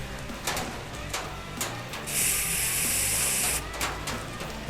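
Air blown through an old Johnson 9.9 outboard carburetor during an air test, a steady hiss lasting under two seconds over background clatter and faint clicks, close and moderately loud.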